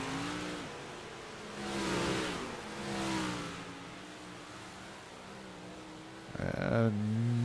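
Big block modified race cars circling the dirt track at Port Royal, engines rising and falling in pitch as they pass at a distance, then a loud close roar near the end.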